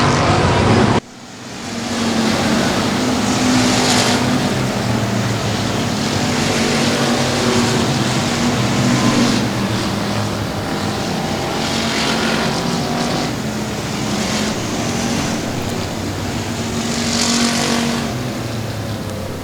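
Race cars at Boothill Speedway roar steadily down the back straightaway on the final lap, a loud continuous engine drone after an abrupt cut near the start, with swelling passes and no talk.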